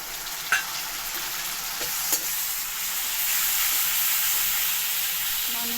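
Tomato paste goes into fried onions in a pan, giving a steady close sizzle with a couple of brief stirring knocks early on, the frying swelling slightly louder toward the end, with no voices.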